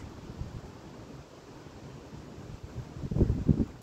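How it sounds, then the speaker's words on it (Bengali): Steady wind buffets the microphone in low rumbling gusts during a sandstorm, growing louder and rougher toward the end. "বাতাস প্রচুর।"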